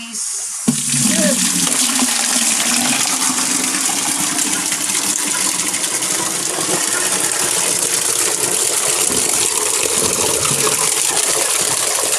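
Water from a koi pond filter poured steadily onto garden plants, a continuous loud gushing splash that starts abruptly after a brief moment and runs on unbroken.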